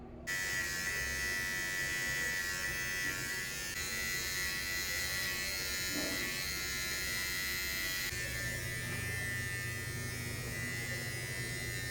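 An electric razor buzzes steadily and close up throughout while shaving, a continuous high whine with slight shifts in tone as it moves across the skin.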